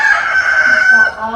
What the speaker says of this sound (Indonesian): Sebelum ayam jago berkokok